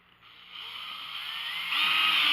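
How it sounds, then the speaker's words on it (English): A power driver sets a screw into a gold-mining drywasher. The close motor whine rises steadily in pitch and loudness over about two seconds as the screw bites in. "I think I'll put a couple more screws in just to"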